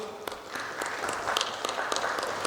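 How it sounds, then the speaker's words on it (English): Audience applause at a finance panel event on RPA and AI, a steady room-filling patter of many hands clapping throughout with a few sharper individual claps. "A big round of applause for Mr. Mathur."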